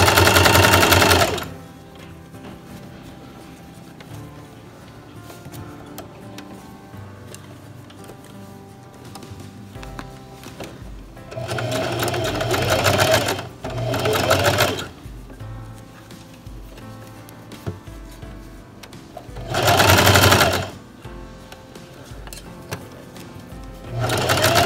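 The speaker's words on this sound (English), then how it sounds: "Then we're going to zigzag right along that side that we just straight stitched." A sewing machine zigzag-stitches along a seam of a newborn baby sleeper, running in three loud bursts of steady whirring stitching separated by quiet pauses, with no talking.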